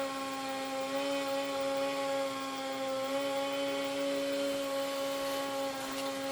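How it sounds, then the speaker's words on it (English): A power drill run by a neighbour next door gives a steady, continuous whine that holds at an even pitch and level for the whole stretch, with no pauses and no talking. "that's my next door neighbour doing some drilling"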